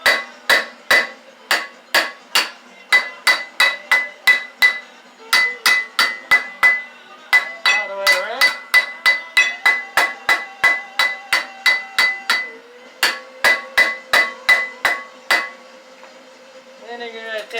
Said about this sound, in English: Then you're going to take your hammer and you're going to beat on it.